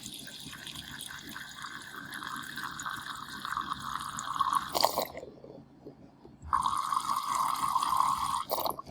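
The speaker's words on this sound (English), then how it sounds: "So let's pour this in here." Liquid poured from a freshly opened can into a container makes a steady close splashing rush that stops for about a second and a half midway, then resumes just as strongly. No voices.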